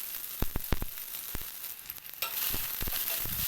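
Chopped onion and mustard seeds sauté in hot oil, a bright steady sizzle punctuated by several sharp clicks of a spoon against the pan, swelling louder in the final second; close, no speech.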